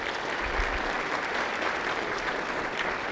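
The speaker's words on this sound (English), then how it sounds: "Let's give them a quick round of applause." A short burst of crowd clapping at a city State of the City address, steady and fairly loud, filling the room as a continuous wash of claps.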